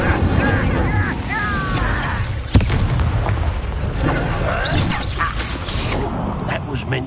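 Incendio fire spell cast in the Hogwarts Legacy video game, a whooshing burst of flame with a sharp crack among busy combat effects, heard under a speaking voice.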